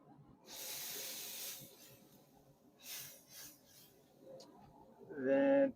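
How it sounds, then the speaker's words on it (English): Spray bottle spritzing glazed pork belly burnt ends, two or three short hissing bursts of mist spaced apart, quiet and close, ending with a louder brief sound. "so I'm just going to do a quick little spritz"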